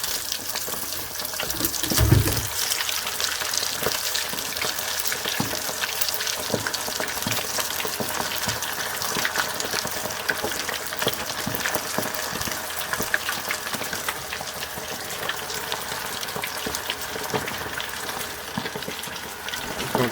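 White bass fillets frying in a deep fryer, a steady loud hiss and crackle of bubbling oil lasting the whole stretch with no talk.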